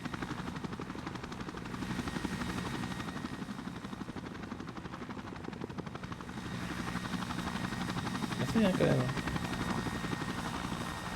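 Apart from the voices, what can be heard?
helicopter flying in a video game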